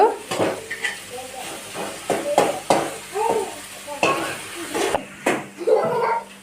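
Tomato, onion and eggs fry in a pan for village-style egg fried rice, with a steady sizzle broken by repeated scraping and clinking of a spatula against the metal in an uneven rhythm.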